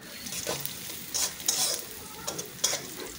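Chopped onions fry in oil in a wok-style kadai for a Bengali country-chicken and potato curry, giving a steady close sizzle broken by a few bright bursts as the pan is stirred, with no talking.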